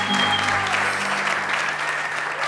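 Applause from an audience at an academic conference fills the hall, a thick, even roar of clapping with a faint tonal hum underneath.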